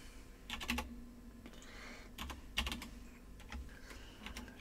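Keys on a computer keyboard being typed in short, quiet clusters of clicks with pauses between bursts, close and alone over a low background hum.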